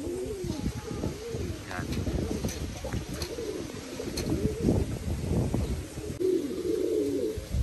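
Racing pigeons coo in soft, repeated low bursts near a loft while someone talks over them for most of the stretch.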